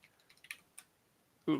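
Typing on a computer keyboard, a short run of light scattered key clicks close by, ending in one louder thump.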